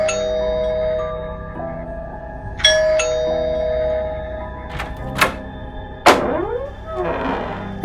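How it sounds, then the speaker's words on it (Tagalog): A doorbell rings at a metal warehouse gate, with bright chiming tones that ring out and decay, followed by a few sharp metallic clanks and knocks, fairly loud and close, with no talk. "Pinindot ko ang doorbell"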